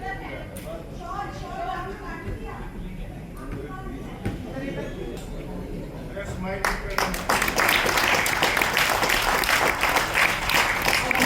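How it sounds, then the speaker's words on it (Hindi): Audience applause at a 4th annual award function in Rohtak: a room-wide noise of crowd and clapping swells and grows louder and denser in the second half, with talk mixed in underneath. "जोरदार तालियां।"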